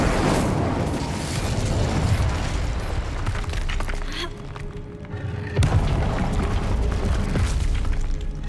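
An Incendio fire spell cast in Hogwarts Legacy, a loud roaring burst of flame with booming, crackling texture that sustains for several seconds, dips briefly, then flares up again close and full.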